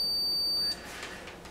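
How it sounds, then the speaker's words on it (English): A multimeter in continuity mode gives a steady high beep while testing a power drill's trigger unit with the trigger held down, clear and close for under a second before cutting off to quiet room noise. "I should hear a beep here with my trigger depressed"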